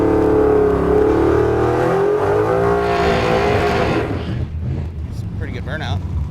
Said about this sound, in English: It's a pretty good burnout.